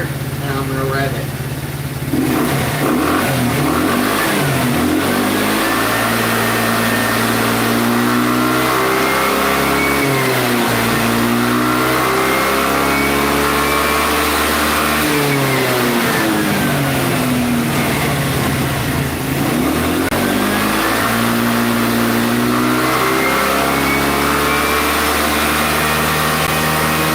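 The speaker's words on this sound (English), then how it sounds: "I'll hold it right here and I'm going to rev it." A scooter held in place on a stand while its engine is revved repeatedly, loud close buzzing that climbs and falls in several long sweeps between idle and high revs.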